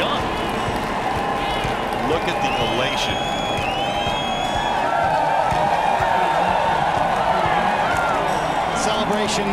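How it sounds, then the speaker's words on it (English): A large crowd roars continuously at the finish of a NASCAR Sprint Cup race, a dense, steady wash of cheering and whoops, with speech mixed into the din. "Listen to the roar of the crowd."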